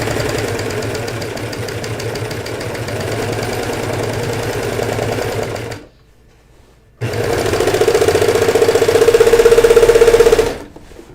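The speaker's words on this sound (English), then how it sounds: "just a quick serge" A serger overlock machine stitching fabric runs loud and close in a fast, steady mechanical chatter, stops for about a second, then runs again before cutting off.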